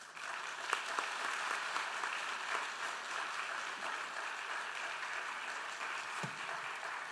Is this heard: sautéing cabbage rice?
no